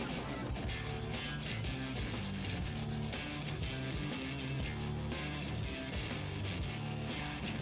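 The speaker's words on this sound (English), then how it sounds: "So now that we filed the perimeter of the nail" A nail file rasps steadily around the perimeter of a gel-extended fingernail, a continuous close, soft scratchy rubbing with quick back-and-forth strokes and no talk.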